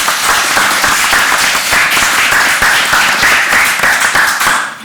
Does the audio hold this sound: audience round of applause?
yes